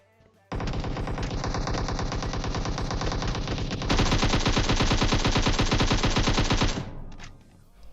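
Sustained automatic gunfire in the mobile game PUBG Mobile hammers on loudly for about six seconds, an unbroken rapid stream of shots that grows a little louder midway before stopping.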